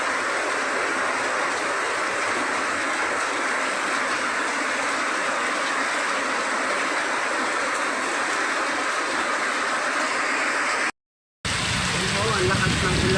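Heavy rain pours in a loud, steady hiss on surfaces around a home, broken by one brief dropout near the end.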